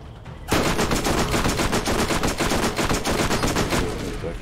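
Rapid automatic gunfire in the video game Borderlands, loud and dense, bursting in after a short quiet moment and continuing in steady rattling volleys.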